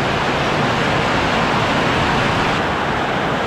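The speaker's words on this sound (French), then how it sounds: "on a une petite bruine qui tombe" A light drizzle falling on Moyo Island, Indonesia, heard as a steady, even hiss of fine rain that stays constant throughout, with no voices.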